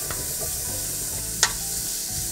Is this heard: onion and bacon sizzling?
yes